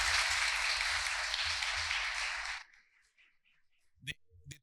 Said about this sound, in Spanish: Un aplauso, por favor, para los ponentes.